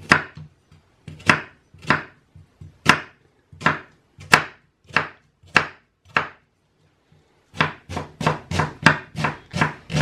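A knife chops an onion on a board in irregular bursts of sharp, close taps, first spaced apart, then a brief pause, then a quicker run of strokes near the end.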